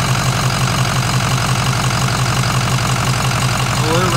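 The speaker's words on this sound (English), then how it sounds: "you can already start noticing the engine start running rougher and rougher" A Ford 6.0 Powerstroke diesel idles loudly and close by during a fuel flow test with dropping fuel pressure, its low steady rumble carrying a slightly uneven, rough pulse throughout.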